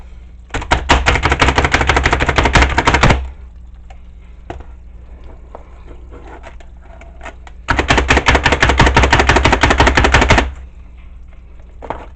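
A food processor chopping stuffing ingredients for an inverted jambalaya whirs in two loud, steady bursts of roughly three seconds each, separated by a quieter pause with a low hum.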